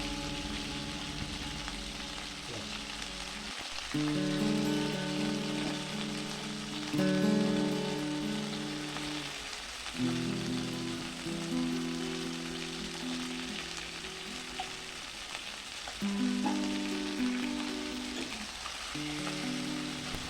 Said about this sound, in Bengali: মাছগুলোকে উল্টে দিয়ে আরও তিন চার মিনিট ভেজে নেব